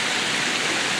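Water pours steadily over a weir waterfall, a dense continuous rushing hiss that fills the whole moment at an even, fairly loud level.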